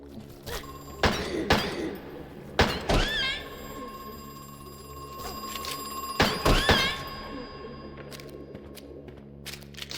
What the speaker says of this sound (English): Suddenly we hear a phone in the distance